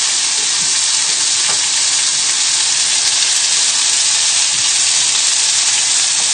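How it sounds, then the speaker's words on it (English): Tomatoes and lamb sizzling in a hot pan while being stirred, a loud, dense, unbroken frying hiss with faint scrapes and clicks of stirring underneath. "just give everything a little stir, and hopefully you'll start seeing the tomatoes breaking down slightly"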